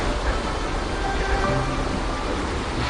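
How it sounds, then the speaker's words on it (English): Steady rushing water from waterfalls in a forest lagoon setting at a private residential resort, a dense, even roar with no pauses or voices. "the waterfalls"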